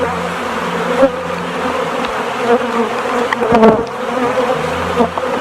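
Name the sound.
honeybees buzzing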